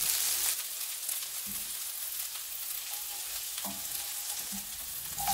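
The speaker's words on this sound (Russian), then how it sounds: "Здесь же обжариваем лук до золотистого цвета" Onion frying in a pan, a constant close sizzle with faint crackles and a few quiet utensil taps, no talking.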